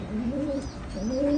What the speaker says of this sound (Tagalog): Pero ito po yung gift bird natin.